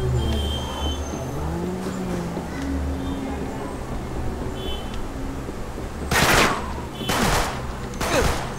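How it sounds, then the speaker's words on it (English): Three sharp gunshots in Uncharted 3 ring out near the end over a steady low rumble of engine-like background noise, each crack loud and separated by about a second. "shooting நடத்துறாங்க."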